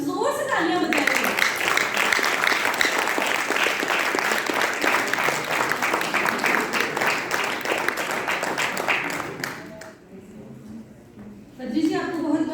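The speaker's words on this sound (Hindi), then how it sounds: "ये हौसला उन्हें तभी मिलेगा जब जोर से तालियां बजाएंगे।" An audience at a cultural function by blind artists claps loudly and steadily for about ten seconds, then the applause fades to a quieter patch before rising again.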